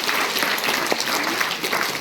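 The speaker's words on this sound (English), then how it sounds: "Give yourselves one big round of applause" Children at a library animal show clap together in steady, dense applause that fills the whole moment at an even, close level without a break.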